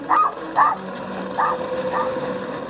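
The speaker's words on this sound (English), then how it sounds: "He barked, while Dorothy sat on the floor." A small dog yips four times in short, spaced bursts over a quiet background.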